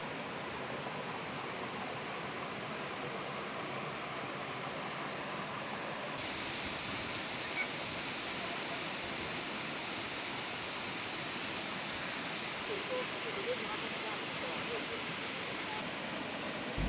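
Steady, dense rushing waterfall water roars continuously throughout, a broad unbroken wash of falling water with no pauses.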